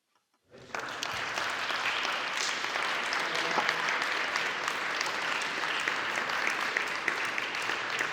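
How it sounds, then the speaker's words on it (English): An in-person audience at a lecture event breaks into a steady round of applause after a brief silence, sustained and fairly even at a moderate distance, with no talk over it. "there was a nice round of applause in the audience"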